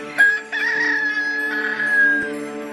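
A rooster crow, used as a sound effect in a Korean Bible reading, rings out as a single long, clear cock-a-doodle-doo, loud and close, with no speech over it.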